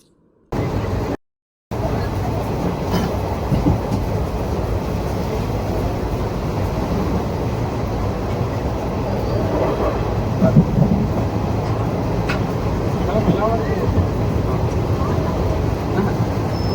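A steady rumble and rattle of the moving Kovai–Mayiladuthurai Jan Shatabdi passenger train with rainwater leaking inside, continuous and fairly loud from start to finish, with faint talk in the background.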